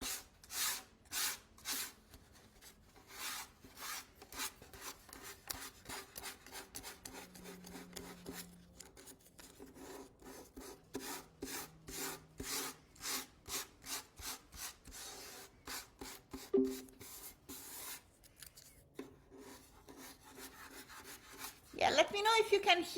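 Hand sanding of wood with 200-grit sandpaper during a varnishing lesson, many quick rhythmic back-and-forth rasping strokes, close and distinct, pausing now and then, with brief speech near the end.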